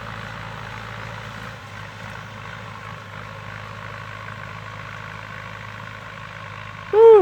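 Ford 6610 tractor ploughing soil to prepare for planting cassava, a steady diesel engine drone at moderate distance running continuously, ending in a brief louder burst.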